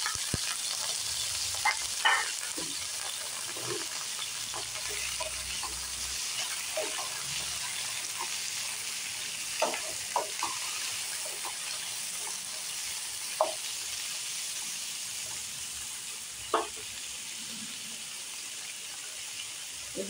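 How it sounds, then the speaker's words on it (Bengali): Ridge gourd frying in a black cumin tempering, producing a continuous close sizzle with occasional light clicks of stirring scattered throughout. "ফোড়নটা হয়ে গেছে, এবার ঝিঙেগুলো দিয়ে দেবো।"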